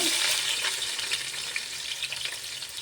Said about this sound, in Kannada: ಈಗ ಎಣ್ಣೆ ಮತ್ತು ತುಪ್ಪ ಚೆನ್ನಾಗಿ ಬಿಸಿಯಾಗಿದೆ ನಾನಿಲ್ಲಿ ಒಂದೂವರೆ ಈರುಳ್ಳಿ ಹಾಕ್ತಾಯಿದ್ದೀನಿ